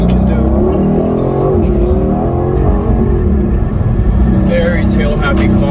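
A 2021 Aston Martin Vantage accelerates hard on Mulholland Drive, its engine loud and close with rising revs through the gears, under a person talking throughout.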